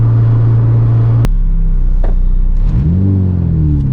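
A K-swapped Honda EG Civic engine revs hard to a high, steady whine, then drops sharply on a gear shift and climbs again as it accelerates, loud and close with no talking.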